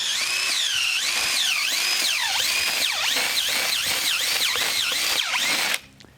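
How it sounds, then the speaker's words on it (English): Power drill of at least 20 volts used while setting coyote traps, running continuously with a whining motor that repeatedly rises and dips in pitch as it bites, then stops abruptly near the end. "If you use a drill, you said you need a 20 volt to... At least."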